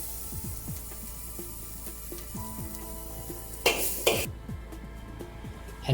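Cumin beef for Hunan-style stir-fry flash frying in a wok over high heat, a steady sizzle with clanking spatula strokes and a couple of louder hissing bursts as the meat is tossed.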